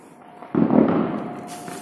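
A single firecracker bursts during Diwali celebrations, a sudden loud outdoor pop followed by a short decaying rumble.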